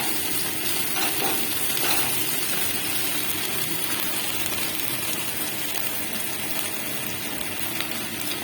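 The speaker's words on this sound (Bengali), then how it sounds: "এবার এর মধ্যে আমি আদা, রসুন আর লঙ্কা বাটাটা দিয়ে দেব" Ginger, garlic and chili paste frying in oil with browned onions for a green banana kofta curry, giving a steady, dense hiss and crackle that stays even and close throughout with no voices.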